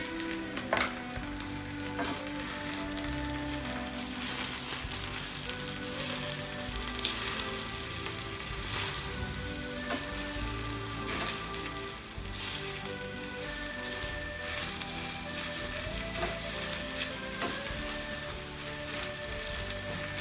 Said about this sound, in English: So now I could add my garlic. So both gonna be sauteing together.